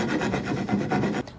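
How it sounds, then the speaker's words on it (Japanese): A Japanese hand plane (kanna) shaves the sharp corner of a wooden board, making a quick run of rasping strokes close up in a brief burst. "カンナをかけると、もう、ほら、すぐなんです。"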